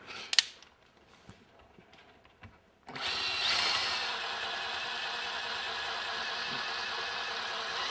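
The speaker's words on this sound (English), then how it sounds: "the rotation of the drill, and this adjuster will thread its way right into the frame here and come up against the drywall" A power drill spins a panel adjuster into a wall frame behind drywall. After a few quiet seconds with light handling taps, a steady whirring motor comes in close and loud and runs continuously to the end.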